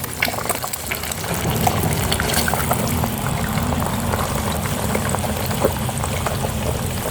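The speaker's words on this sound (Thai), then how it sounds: "กระเทียมเหลืองได้ที่ก็ใส่ไข่ลงไปครับ ใช้ไข่สองฟองครับ" Two eggs frying in a pan with golden fried garlic for stir-fried cabbage with egg, giving a loud, steady crackling sizzle with scattered pops throughout.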